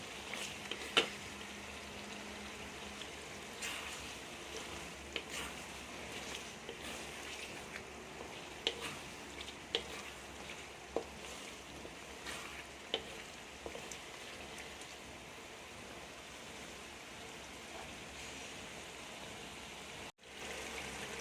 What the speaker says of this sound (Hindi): अच्छी तरह मिक्स करेंगे और चिकन की अच्छी तरह हम भुनाई करेंगे।